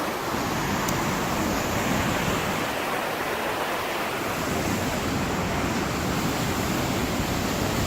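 Rushing meltwater pours over Blakiston Falls in a loud, steady broadband roar, a constant dense wash of falling water close by with no pauses and no voices.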